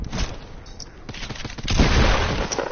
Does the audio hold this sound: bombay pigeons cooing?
no